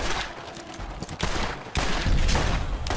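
Gunfire from a revolver in the Borderlands video game, loud shots with a sharp break partway through, over a dense continuous game soundscape with no talking.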